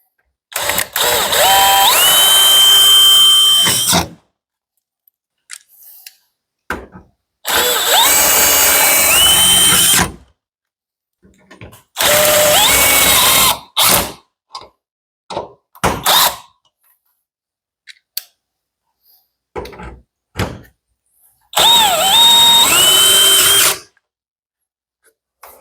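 A powerful drill works on a Wayne Dalton garage door reinforcement bracket, four loud, close bursts of whirring and ratcheting, each a few seconds long, separated by clicks and handling noise.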